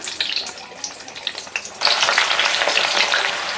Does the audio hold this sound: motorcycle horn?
no